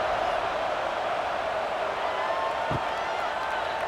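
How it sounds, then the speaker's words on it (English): A stadium crowd at a Virginia Tech versus Florida State college football game in EA College Football 26 keeps up a constant loud buzzing roar, with a steady wash of many voices throughout. "this crowd is buzzing after that last score"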